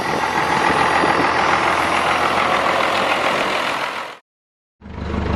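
Engine of an International IHC truck idling up close, a loud, steady low rumble that cuts out abruptly near the end, then resumes after a short silence.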